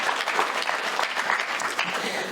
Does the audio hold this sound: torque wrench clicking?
no